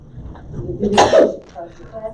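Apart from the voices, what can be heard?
sneeze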